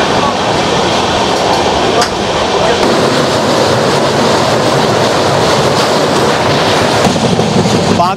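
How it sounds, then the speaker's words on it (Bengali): Tamralipta Express passenger train from Howrah toward Digha rolling between Uluberia and Mecheda, a steady loud roar of wheels on rails with faint rhythmic clatter, continuous throughout. "উলুবেড়িয়া স্টেশন ছেড়ে দিয়ে আমাদের ট্রেন এখন চলেছে মেছেদার"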